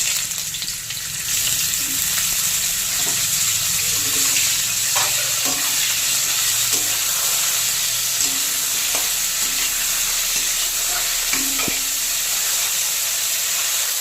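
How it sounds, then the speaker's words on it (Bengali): Cauliflower frying in hot oil left over from frying potatoes, a loud, continuous sizzle with occasional spatula knocks and stirring scrapes throughout. "এবার ওই আলু ভাজার তেলে ফুলকপিটাও ভেজে নেব।"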